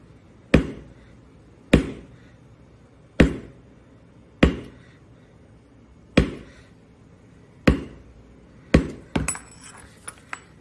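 Sharp, loud mallet strikes on a leather stamping tool press a small flower pattern into leather, about seven evenly spaced hits followed by a quick cluster of lighter taps.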